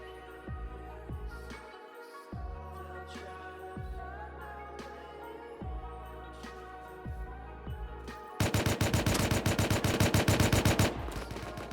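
Gunfire in the online survival game Rust Console, with single shots spaced through the first stretch, then a loud, rapid automatic burst near the end.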